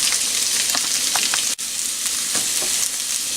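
Chicken, bell pepper, mushroom and onion fry together in a pan with a loud, constant sizzle, a few soft stirring knocks and one brief dropout midway.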